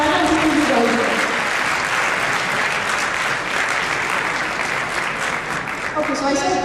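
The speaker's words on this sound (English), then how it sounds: "So I would like you to give all these sponsors, all these partners a huge, and I mean it, a huge round of applause." A large audience at an awards gala applauds the sponsors, a sustained, loud wash of clapping filling the room throughout, with a voice speaking over it at the start and end.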